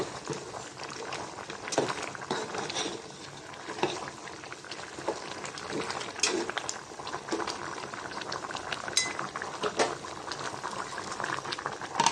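Beef curry with potatoes bubbling hard in a covered pot, a dense continuous boil with scattered small pops and knocks, close and unbroken, no talk.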